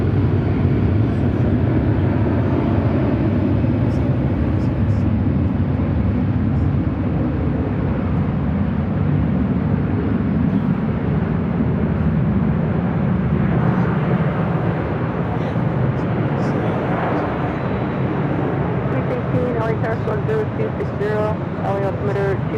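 An airliner takes off from runway 24 left at Los Angeles International Airport, a loud, continuous jet roar and rumble that holds for over twenty seconds, with radio voices faintly audible toward the end.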